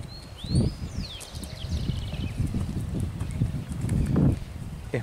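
Hooves of a calm dun horse plod on soft ground in an uneven walking rhythm, mixed with wind rumble and faint birdsong, while a voice speaks intermittently.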